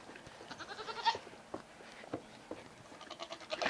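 Goats on a small farm, a white billy goat among nanny goats, give faint bleats and scuffling sounds amid outdoor background noise, with several soft calls spread across the moment.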